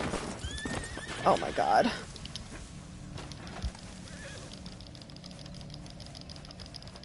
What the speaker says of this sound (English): Oh, my horse is stuck.